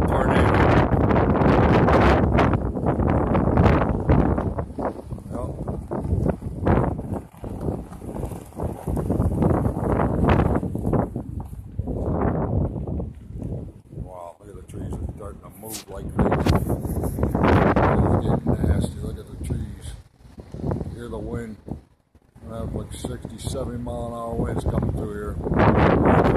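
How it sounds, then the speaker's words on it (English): Strong wind gusts roar across the microphone on a Vermont farm during a lightning and thunder storm, buffeting loudly and almost continuously, with a person talking over them. "Listen, you can hear the wind coming now."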